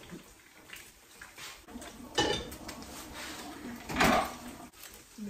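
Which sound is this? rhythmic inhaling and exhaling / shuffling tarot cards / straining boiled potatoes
straining boiled potatoes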